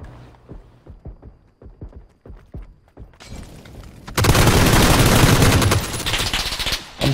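Gunfire in PUBG Battlegrounds on Xbox, a run of separate single shots at a spaced rhythm, then dense loud automatic fire that bursts in and continues close by.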